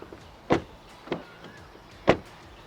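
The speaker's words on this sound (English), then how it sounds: "And then even the door shut," Three sharp thuds spaced apart, a Toyota Urban Cruiser Taisor car door being shut, the last one loudest, with quiet in between.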